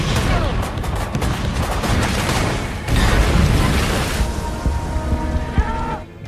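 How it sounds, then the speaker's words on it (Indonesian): Gunfire and booming blasts from a German submarine attacking an American fleet in a naval battle, a dense, continuous barrage of shots and explosions at close range. "Namun tiba-tiba kapal selam Jerman melepaskan tembakan"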